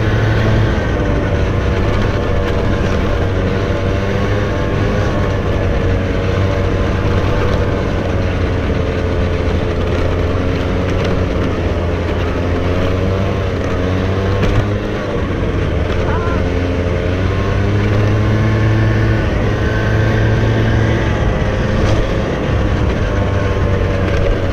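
First-person scooter ride along village roads: a loud, continuous engine drone mixed with road and wind rumble runs unbroken from start to finish.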